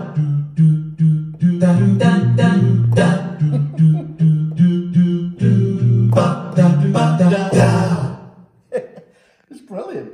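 Roland F-140R digital piano in contemporary black playing a touch-sensitive voice, with loud, dense chords and runs that swell and fade, then trail off into a few quieter notes near the end.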